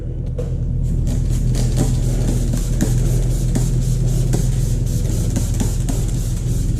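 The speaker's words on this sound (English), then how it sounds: "And I'm just gonna spray down the area" A spray bottle of IPA cleaner hisses in short, repeated bursts onto a 2016 Ford Mustang's paint, over a constant low engine-like hum nearby.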